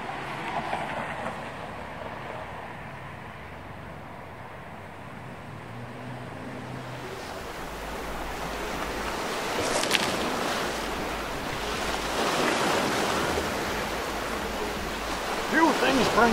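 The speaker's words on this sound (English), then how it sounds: "the sound of the waves" Lake waves wash gently onto a shore, a soft continuous surf that swells louder in the second half, with a light rush of water.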